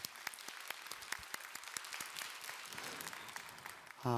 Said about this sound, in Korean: 감사와 영광의 박수를 올려드리겠습니다